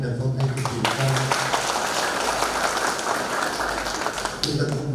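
Applause from a Vietnamese community gathering welcoming a representative from Hong Kong, a dense patter of clapping running steadily beneath a speaking voice.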